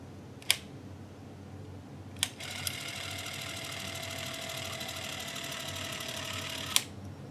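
An old wind-up 8mm movie camera clicks, then its spring-driven mechanism whirs steadily for about four seconds before stopping with a sharp click, heard up close and fairly quiet, with no talking.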